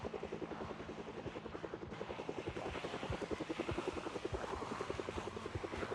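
A helicopter flies overhead in the video game Project Zomboid, its rotor chopping in a steady rhythmic thump that continues through the whole stretch with no one talking.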